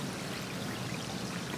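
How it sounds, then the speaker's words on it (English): A bath bomb is dropped into a beaker of water and fizzes steadily, a soft continuous hiss of bubbling close by with no talk. "just drop the bath bomb in the beaker and start the timer"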